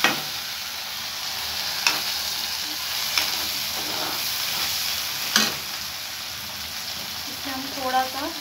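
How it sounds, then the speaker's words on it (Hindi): Tomatoes added to frying onion in a pan, a steady sizzle with a few sharp stirring clicks and a faint voice near the end. "ये मैंने टमाटर डाला है, तो चलाऊँगी।"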